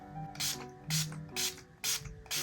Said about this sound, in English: I'll just go in with some setting spray